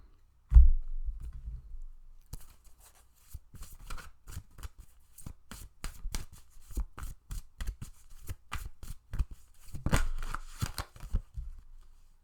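Tarot cards being shuffled and drawn for a relationship reading: a quiet thump at the start, then a long run of crisp, rapid card riffles and snaps, close and fairly soft, with no talking.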